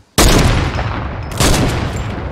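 Two loud, sustained bursts of gunfire in the video game Fortnite, the first starting abruptly and the second about a second later, both close and harsh with no talking.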